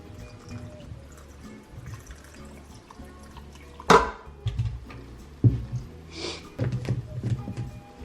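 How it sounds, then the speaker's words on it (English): Filtered water is poured into a juice of lemon, ginger, orange, pepper and turmeric, with short splashing bursts over quiet kitchen background. "And lastly, we'll fill it up with filtered water."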